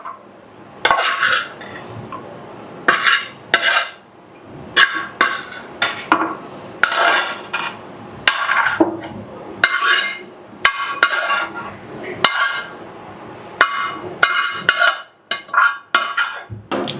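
Fried onions, chili and a little tamarind are ground coarsely together, making close, repeated scraping and knocking strokes in an uneven rhythm, with no talking.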